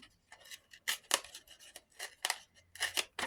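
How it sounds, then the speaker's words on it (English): Paper is torn along a line for a Christmas accordion-style journal, heard as a quick series of short, crisp ripping bursts with brief gaps between them, close and alone. "And then I'm just going to tear along that paper line."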